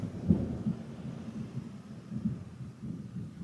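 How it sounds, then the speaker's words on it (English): Thunder rumbles low and muffled during a downpour, with deep rolling booms and soft thuds rising and falling over a faint hiss of rain, heard from indoors. "Did you hear that thunder?"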